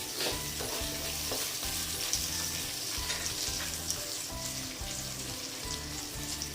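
Chopped green chilies fry in a pan for egg chow mein with a steady, dense sizzle and crackle, with a repeating low thump, likely stirring, beneath, and no talking.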